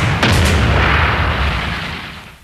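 A heavy artillery shell from a WWI German supergun bursting over Paris: a sharp, close blast followed by a deep, rumbling roar that slowly fades out.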